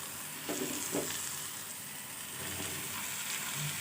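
Ridge gourd with green chili and grated ginger sizzles steadily in a hot pan, a faint continuous frying hiss broken by a few soft stirring scrapes and clinks.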